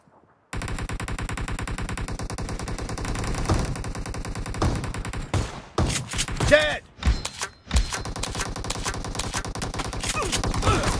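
Automatic gunfire in a video game rattles in rapid, continuous bursts, loud and close, with a short break of thuds and mixed game sounds midway.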